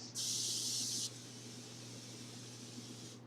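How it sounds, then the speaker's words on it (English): A single close hiss of cooking spray onto a baking pan lasting about a second, followed by a quiet room hum. "Okay, now also, we're going to spray our pan."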